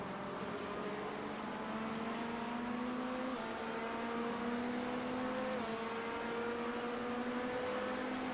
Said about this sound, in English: Alright, the GT3s are pitting.